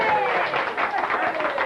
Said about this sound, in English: everybody clap and yell yay for my friend Chuck